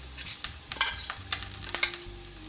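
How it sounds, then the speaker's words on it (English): Onions sauteing in a pan with dry spices (chilies, cardamom seeds, cloves, garam masala, cumin seeds), a loud steady sizzle broken by sharp stirring scrapes and spoon taps, close up and without speech. "We are going to saute the onions."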